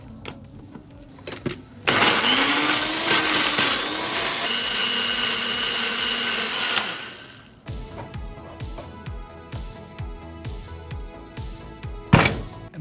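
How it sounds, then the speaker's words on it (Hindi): A blender whirs loudly for about five seconds as it purees a no-onion, no-garlic momo chutney, its motor pitch wavering, then stops, followed by softer tapping and handling sounds and a brief sharp burst near the end. "And now we will blend it."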